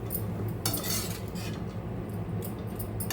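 A spoon scrapes and clinks against a pan as grated coconut is stirred into poha puliyogare, with close, busy metallic clatter in uneven strokes and no talking.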